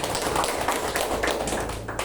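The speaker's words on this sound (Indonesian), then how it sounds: "Kasih tepuk tangan buat Tuhan Yesus." Church congregation clapping hands together in worship, a busy, continuous patter of many hands at moderate volume with a low rumble beneath.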